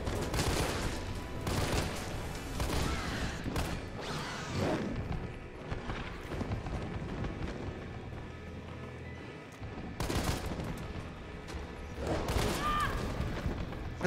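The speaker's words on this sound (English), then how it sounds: "Do I have my burst pistol? Please tell me I kept my burst pistol." Gunfire in Resident Evil 3, with bursts of sharp shots from a burst pistol and heavy impacts, loud and dense throughout with a few quieter gaps.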